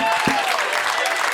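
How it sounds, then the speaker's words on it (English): An audience at a comedy club applauds a woman, a short burst of clapping under the comedian's ongoing talk. "Yes, clap"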